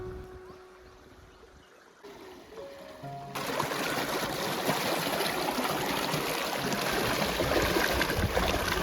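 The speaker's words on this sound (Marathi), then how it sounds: "गावामध्ये आम्ही चांगली नदी ही एकच अशी मोठी आहे" A river flowing past a Konkan village, with a large waterfall upstream; the rushing water starts soft, then swells into a loud, steady broadband roar that fills the rest of the clip.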